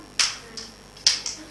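Crisp hand claps from the tepuk nyamuk clapping game in a classroom teaching session, landing as two quick pairs of sharp, close slaps over a quiet room.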